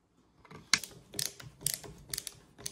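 Screws being driven with a screwdriver to reattach the recoil pad on a Remington 870 Hogue stock, a close series of quick ratcheting clicks and small mechanical ticks in irregular bursts.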